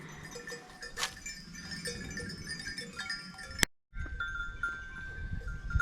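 Goats bleat and bells clank nearby, with a tonal ringing throughout and a brief cutout partway through.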